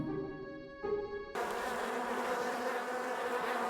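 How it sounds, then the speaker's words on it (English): Bees in a video game drone in a steady, close buzzing hum that swells suddenly partway through and continues loudly to the end, after a quieter tonal game sound, with no talking. "I hear the bees. I hear the bees."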